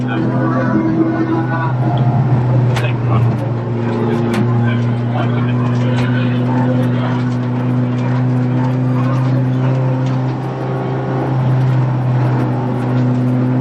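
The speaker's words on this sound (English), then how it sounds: "It looks to me as though the safety car has picked up the number 70 BMW now of Chris Overend" Race cars circulate behind a safety car at Silverstone during a Britcar Trophy race with a Golf TDI and Audi TT TFSI field, a steady loud engine drone carrying throughout with crowd and commentary noise mixed in.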